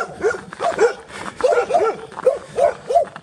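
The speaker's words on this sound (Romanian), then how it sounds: "Și câinii latră." Dogs bark repeatedly on a snowy street in Câmpulung Moldovenesc, a run of short yapping barks and whimpers at moderate distance, steady rhythm, no talk over them.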